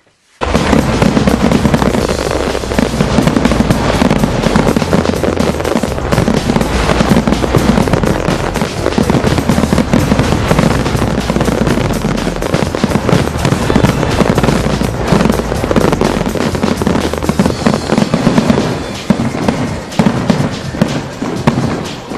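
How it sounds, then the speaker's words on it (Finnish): Fireworks burst in a dense, nonstop barrage of crackles, pops and booms, loud and close for over twenty seconds with no talking. "nämä on aivan liian pienet ilotulitukset näinkin monennen jakson kunniaksi"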